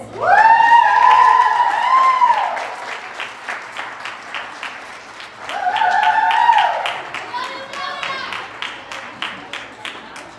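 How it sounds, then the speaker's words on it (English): A crowd at an early childhood education awards ceremony bursts into sustained cheering and whoops over a bed of steady clapping, with a second swell of shouts partway through before the applause continues alone. "What a good cheering crowd."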